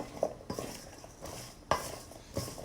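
Chopped vegetables coated with a teaspoon of oil get tossed in a bowl, giving quiet, rhythmic scraping and clattering knocks about every half second against the bowl.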